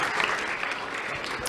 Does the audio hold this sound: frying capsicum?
no